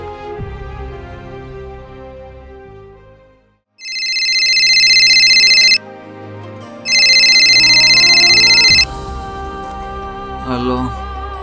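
A phone rings out in two loud, bright electronic bursts of about two seconds each, separated by a short pause, after a quiet musical background stops. A brief voice follows the ringing.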